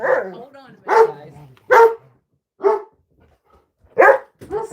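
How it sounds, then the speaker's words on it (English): A pet dog barks in a run of sharp, loud yaps spaced about a second apart at home, with a voice talking between the barks. "No, don't bark."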